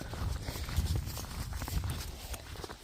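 A horse walks along a snowy stable path through a puddle, its hooves landing in a soft, steady clip-clop close by, with faint rustling in between.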